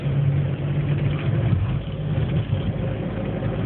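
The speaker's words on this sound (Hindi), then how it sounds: "देख रहा कितना गाड़ी चल रही है।" Steady traffic on a road on the way to Murree: a continuous low rumble of car engines idling and pulling away nearby, with a constant hum and occasional revving swells, and no voices over it.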